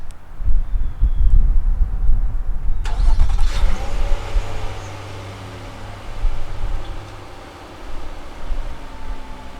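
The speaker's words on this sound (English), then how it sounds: "To start the vehicle, just tap the lock button, and then hold down on the top button for 2 seconds." Remote start of a 2016 Nissan Murano outdoors: a sharp crank around the three-second mark, then the mid-pitched engine settles into a steady, fairly loud idle hum with a low rumble, no voices.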